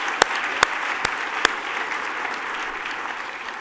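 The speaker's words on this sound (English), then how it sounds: "I think everyone deserves a large round of applause." Audience applause at an aviation safety forum awards banquet, a dense steady patter of many hands clapping in a hall with a few sharper individual claps standing out, no speech.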